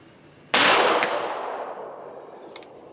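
A Smith & Wesson M&P 2.0 Metal pistol fires a single sharp shot that fails to feed a second round, the report ringing out and decaying over about two seconds.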